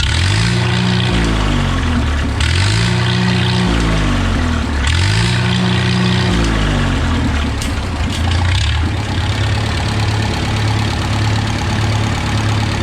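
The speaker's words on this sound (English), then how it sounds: "if you idle it down fast, the exhaust would pop real bad" A 1966 car engine idling loud and close, revving and dropping in repeated cycles, then settling into a rough steady idle with crackling exhaust pops as it winds down.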